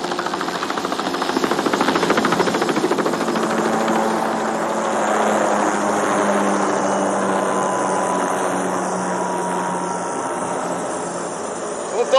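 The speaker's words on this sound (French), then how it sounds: "Ah, voilà l'hélicoptère." A helicopter arrives in a film scene, its steady rotor and engine drone holding loud and continuous throughout, with a faint low tone running beneath and a sharp knock right at the end.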